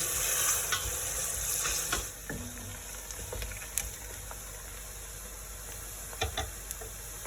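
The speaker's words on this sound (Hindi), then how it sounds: "इसमें हमने तकरीबन 2 दरमियाने साइज़ के प्याज काट के डाले हैं। अब इसको हम फ्राई करेंगे।" About two medium onions, chopped, sizzle in hot oil with a faint, even hiss and occasional small clicks and pops. No one speaks.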